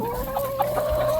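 A black rooster gives a short run of nasal clucks, close and clear, on a farm where chickens are being watered.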